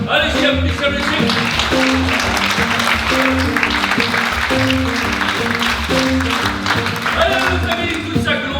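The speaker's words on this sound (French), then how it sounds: "Allez-y, applaudissez." An audience claps steadily through a French theatre season presentation staged as a quiz show, while rhythmic music plays loudly over the applause and a voice can be heard alongside it.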